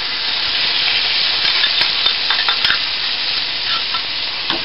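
Food frying in a pan gives a steady, close sizzle that is stirred and mixed throughout, with a few light scraping knocks over the constant crackle.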